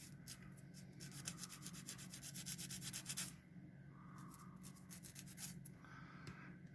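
Brass wire for a plastic model guard rail is sanded with quick, rhythmic back-and-forth rubbing strokes, close and quiet, followed by slower, softer scraping passes.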